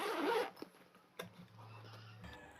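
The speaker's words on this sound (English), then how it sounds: "And then we're going to close the bag." Zipper drawn shut on a community health nurse's equipment bag, one quick close rasp at the start, followed by faint handling clicks and a low hum.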